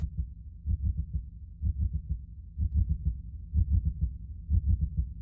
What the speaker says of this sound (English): a slow heartbeat.